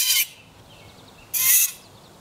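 Two shrill, high-pitched squeals from a metal object pressed against a block of dry ice, the first brief and the second slightly longer, loud and close with quiet between them.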